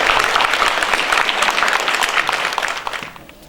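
A room of attendees at a Farm Bureau candidate night applauds the candidates with loud, close clapping that stays full for about three seconds before tapering off into scattered claps.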